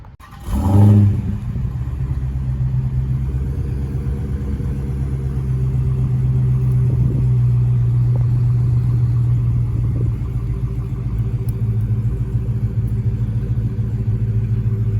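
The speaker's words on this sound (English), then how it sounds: "Oh, when we get that exhaust going." Dodge Hellcat V8 engine and exhaust idling with a deep, steady rumble after a sharp opening rev, staying loud and close with a few light throttle blips throughout.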